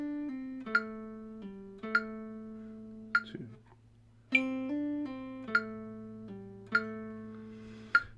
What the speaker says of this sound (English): I'm doing kind of like a bluesy triplet rhythm.